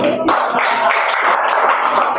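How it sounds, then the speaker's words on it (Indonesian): A seminar audience gives a short round of applause for a guest named Evan, with brisk, close clapping that carries on steadily for about two seconds. "Tepuk tangan dong buat Evan."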